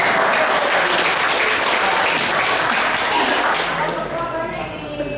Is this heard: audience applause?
yes